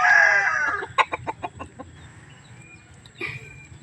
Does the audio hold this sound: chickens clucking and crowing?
yes